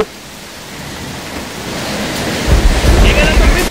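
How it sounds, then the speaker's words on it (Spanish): A video game storm rolls in with hard, steady rain hissing and thunder rumbling, growing louder and heavier in the last second or so. "Llega la tormenta."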